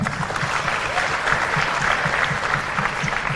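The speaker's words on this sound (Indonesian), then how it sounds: "Tepuk tangan untuk FOS Jakarta." A crowd of Jakarta student council leaders applauds, dense sustained clapping from many people filling the space evenly and loudly throughout, with a faint murmur of voices underneath.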